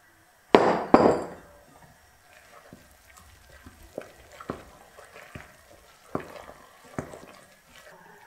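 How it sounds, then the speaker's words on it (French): Blended ingredients are stirred into cod fritter (acras de morue) batter in a bowl: two loud initial knocks, then soft wet scraping with sparse spoon taps and clinks, close and alone. "J'incorpore à ma pâte les ingrédients que j'ai mixés."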